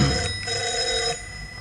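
An old-style telephone bell rings in a continuous metallic trill close by, stopping abruptly partway through, with no talk over it.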